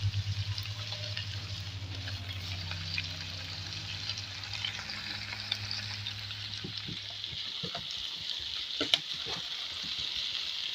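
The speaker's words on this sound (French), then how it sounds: "je laisse mijoter tout ça à feu doux" Spiced chili purée simmering on low heat in a pot, a soft continuous sizzle and bubbling hiss, faint and steady throughout with a low hum beneath that drops away partway, a few small clicks and knocks near the end, no talk.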